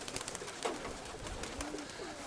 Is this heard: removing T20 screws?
no